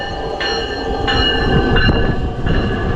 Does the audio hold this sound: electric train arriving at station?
yes